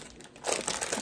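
A plastic bag of candy corn crinkles and crackles loudly up close as hands work at opening it, the rustling growing busier partway through.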